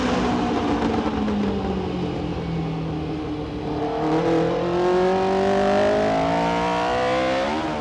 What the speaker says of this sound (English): The Tyrrell is more speedboat than racing car in these conditions